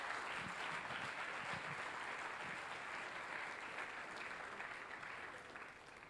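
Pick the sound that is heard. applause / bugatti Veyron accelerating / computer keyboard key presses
applause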